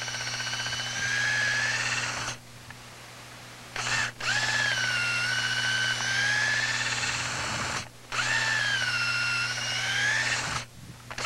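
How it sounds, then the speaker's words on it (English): A power drill bores holes in log furniture, whining in sustained bursts with brief pauses between, rising and steady in pitch, fairly close with a constant low hum underneath. "Now, we'll finish drilling our holes out."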